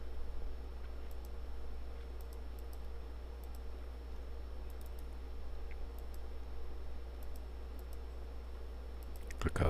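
Computer mouse clicks while working in Windows Server routing settings, sparse sharp light ticks scattered in pairs over a steady low hum, close and faint.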